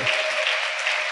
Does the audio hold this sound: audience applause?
yes